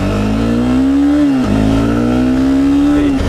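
Honda CBR 300R motorcycle exhaust while riding, a loud, steady close engine drone holding a near-constant pitch, dipping briefly as if shifting gear mid-clip before settling back, no talk.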